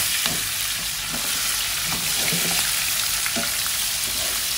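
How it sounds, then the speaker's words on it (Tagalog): Chili and cauliflower sauté in a pan with garlic, giving a loud, steady sizzle broken by regular scraping strokes of a stirring utensil. "Tapos isoted lang natin siya hanggang sa"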